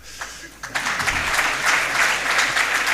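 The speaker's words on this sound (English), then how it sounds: "And another special clap for the greetings from His Excellency the King." Clapping from an audience at a STEM event in Africa, honoring greetings from the King of Eswatini; moderate applause builds after a few scattered claps and continues steadily, fairly distant and soft.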